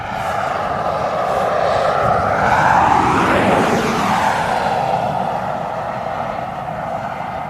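A Ryanair airliner passes at East Midlands Airport, its jet roar loud and close, swelling to a peak as it goes by and then fading slowly, with no voices.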